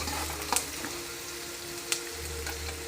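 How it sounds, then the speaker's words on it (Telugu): Chicken for a curry fries gently on low heat in a pan, a soft, steady close sizzle with a couple of brief sharp stirring clicks over the quiet bubbling. "మనం సిమ్లో పెట్టి కూడా ఫ్రై చేసుకోవచ్చు."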